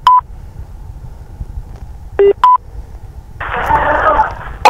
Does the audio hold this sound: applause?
no